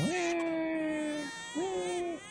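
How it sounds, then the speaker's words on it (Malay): Two sustained infant-like wails with steady, droning pitch, the second starting after a brief pause. They are close and fairly loud, as a baby crying sound effect in a horror story about a school hostel in Perak. "macam suara bayi menangis"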